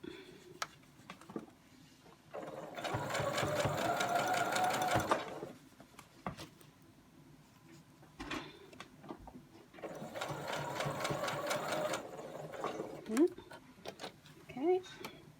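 A sewing machine stitches a cloth face mask in two bursts of steady, close mechanical whirring, each a couple of seconds long, with quieter handling and a person speaking in between.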